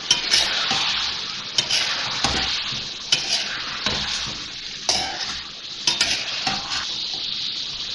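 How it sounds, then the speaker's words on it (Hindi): Garlic paste fries in a pan for chicken karahi, a steady loud sizzle broken by repeated scraping and clanking strokes of a stirring spoon against the metal. "ये लहसुन का पेस्ट, थोड़ा सा इसको फ्राई करेंगे।"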